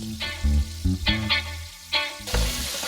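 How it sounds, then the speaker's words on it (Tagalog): Sliced pork belly and lemongrass sautéing in a pan. The sizzling comes in bursts, with clattering stirring strokes, close and fairly loud. "Isama sa gisa ang ginayat ng liempo at tanglad."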